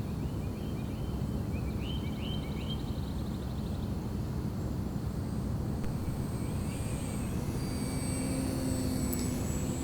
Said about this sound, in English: Here we're just putting the plane through a few scale maneuvers.